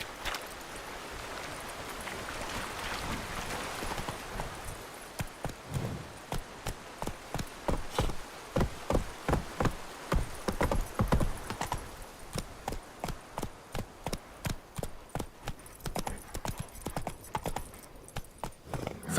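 Roach the horse gallops in The Witcher 3, a steady run of loud, close hoofbeats that settles into a fast, even rhythm after a few seconds of rustling movement.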